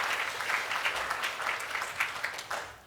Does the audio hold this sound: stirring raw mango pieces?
no